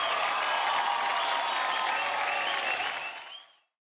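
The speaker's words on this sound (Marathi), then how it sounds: "एकदा जोरदार टाळ्या श्वेतासाठी." A TV show studio audience applauds for Shweta, a dense, steady burst of clapping that fills the room and then fades out quickly at the end, with no voices over it.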